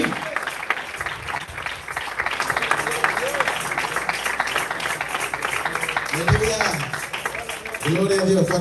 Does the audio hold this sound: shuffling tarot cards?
no